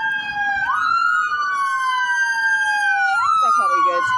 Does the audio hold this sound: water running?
no